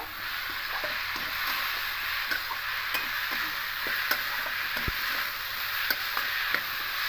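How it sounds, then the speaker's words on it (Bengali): Banana stem and red lentil mixture stirred in a pan, a steady sizzling hiss with soft spoon scrapes and taps repeating throughout at close range. "দিয়ে আবারও ভালো করে মিশিয়ে নেব"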